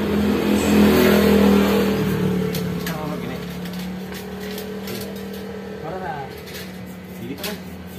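A motorcycle engine running close by, revving up loudly then settling to a steady idle with brief blips, while someone talks over it.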